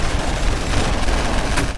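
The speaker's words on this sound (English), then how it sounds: "is quickly bombarded by a swarm of gunfire." Dense, loud movie gunfire fills a sewer standoff in V for Vendetta, a continuous barrage of overlapping shots with no pauses or speech.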